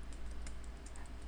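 Steady, quiet clatter of computer keyboard keys being typed in a short run, faint against a constant low hum.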